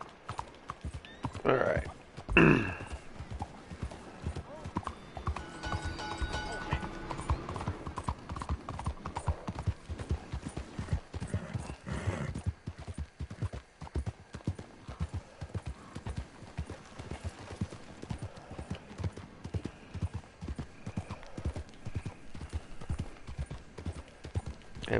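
Steady clip-clop of horse hooves while riding in the video game Red Dead Redemption 2, a continuous rhythmic trot with a brief whinny early on and occasional talk over it.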